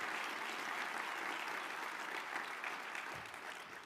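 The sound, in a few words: audience applause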